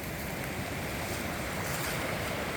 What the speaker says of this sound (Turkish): Perşembe derede bir hayli güzel su var.